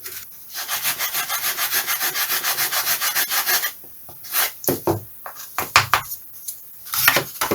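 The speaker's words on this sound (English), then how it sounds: "I might even be able to sand that flat as well as sideways" Sandpaper rubbed back and forth on a balsa wood part of a scratch-built model jet: a fast steady rasping rhythm of even strokes, then a pause and slower, uneven scrubbing strokes, loud and close with no talk.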